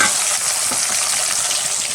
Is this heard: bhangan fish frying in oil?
yes